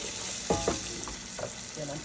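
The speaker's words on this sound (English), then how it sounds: "I'm frying it together as well." Blended pepper frying in a pot gives a steady, soft sizzle, with a few faint clinks and stirring scrapes on top.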